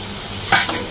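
Masala for kachori sizzles and fries in a pan as a spoon stirs it, giving a short scrape over a steady hiss.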